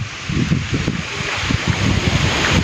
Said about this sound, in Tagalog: Grabe naman ang hangin to.